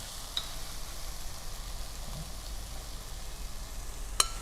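Assorted mushrooms stir-frying in a pan, a continuous soft sizzle with faint crackles and a small clink of a utensil near the end, steady and close, with no talk.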